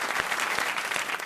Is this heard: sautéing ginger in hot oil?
no